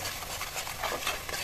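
Blended onion paste with garam masala, turmeric, chilli powder, salt and bay leaf stirred and fried in a pan: close, continuous sizzling under soft scraping strokes of the spoon.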